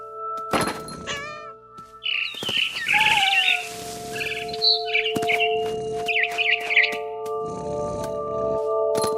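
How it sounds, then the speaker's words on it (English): A barn swallow chirps in the game What Remains of Edith Finch, giving short, bright calls among soft thumps and a cat-like meow, over a low steady background tone. "Then I heard chirping outside my window. It was a barn swallow going back to her nest."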